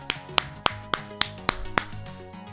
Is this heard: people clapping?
yes